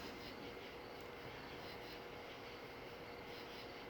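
A dust collector vacuum runs in a woodcarving shop, giving a steady, even broadband whoosh that holds constant and fairly faint without a break.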